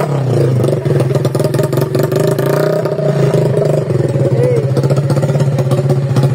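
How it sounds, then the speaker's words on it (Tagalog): A freshly built Rusi TC125 motorcycle engine runs loud and close, holding a steady idle with small rev swells throughout, while people talk and shout excitedly over it. "umandar na rin itong binuo nating motor"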